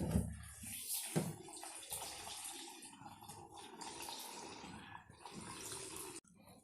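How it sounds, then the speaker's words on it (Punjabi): Water, 300 ml, is poured into a chocolate whey protein shake, making a soft continuous pouring and splashing sound close by, quiet, fading out near the end. "ਹੁਣ ਇਹਦੇ ਵਿੱਚ ਪਾਣੀ ਪਾਵਾਂਗੇ 300 ml ਪਾਣੀ ਪਾਵਾਂਗੇ"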